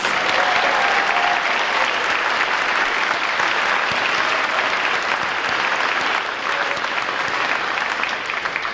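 A crowd at an eighth-grade awards ceremony claps loudly and continuously, a thick, even roar of many hands that stays strong from start to finish.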